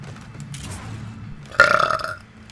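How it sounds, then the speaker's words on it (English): A man lets out a loud, drawn-out burp lasting about half a second over steady Call of Duty: Infinite Warfare multiplayer game sounds, standing out clearly near the end. "I keep burping, dude."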